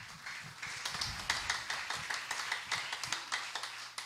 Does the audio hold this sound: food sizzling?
no